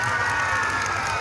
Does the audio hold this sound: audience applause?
yes